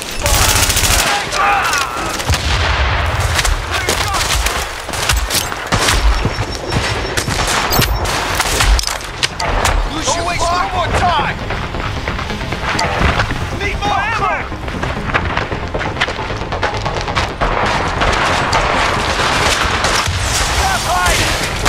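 Heavy gunfire rages in the video game Tom Clancy's The Division during a water supply mission, with dense bursts of automatic fire and explosions forming a loud, continuous barrage, with voices faintly under the din.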